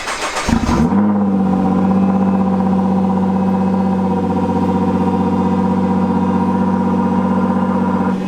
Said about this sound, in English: Cold start, the battery's probably flat.